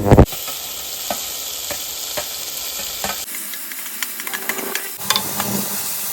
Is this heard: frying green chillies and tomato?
yes